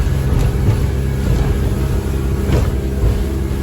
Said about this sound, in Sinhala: ඔහොම තමයි අපි වෙන ස්පීඩ් බෝට් එකක් ඕවර්ටේක් කරේ